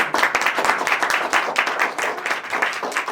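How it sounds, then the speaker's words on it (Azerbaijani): Applause from an audience honouring fallen martyrs at a rehabilitation centre, dense steady clapping throughout with no clear talk on top. "Baxın, şəhidlərimizi necə gözəl alqışlayırlar."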